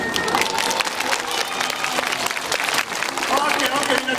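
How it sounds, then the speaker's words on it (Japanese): An audience at a Disney summer party stage show, Donald's Super Splash, gives steady applause. The clapping is dense and sustained, with crowd noise mixed in. "みんな中途半端な拍手、サンキュー。"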